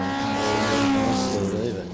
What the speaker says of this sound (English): So the V's have started to lap the slower of the cars that started before them.